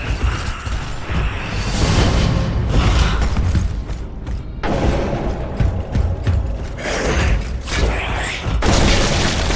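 A Torque Bow weapon firing in a video game on PS5, with mechanical ratcheting and clanking, heavy booming hits and a steady dense layer of game noise throughout.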